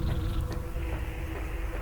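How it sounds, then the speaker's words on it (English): War wasps from Metroid Prime 2: Echoes buzz steadily and continuously at close range, a dense insect drone holding an even level throughout with no talk over it. "If you look over here, we have more war wasps."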